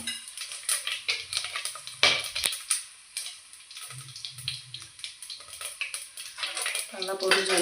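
Whole spices (cloves, stone flower, fennel, cardamom, bay leaf and cinnamon) crackle in hot oil for mushroom biryani, a steady close sizzle with scattered stirring scrapes and pan clinks, sharpest around the two-second mark.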